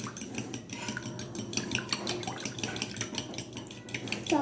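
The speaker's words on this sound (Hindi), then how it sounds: "इन तमाम तीनों चीज़ों को अच्छे से मिक्स कर लेंगे" A spoon clinks and scrapes against a bowl while vanilla essence and cinnamon powder are stirred together, a quick, continuous rhythm of close metallic taps with no talking.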